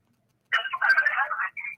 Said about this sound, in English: I think my phone is ringing from UB caller.